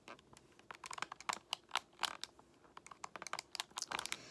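Buttons on a Texas Instruments graphing calculator pressed one after another, crisp close plastic clicks in irregular quick bursts against a quiet background, no talk.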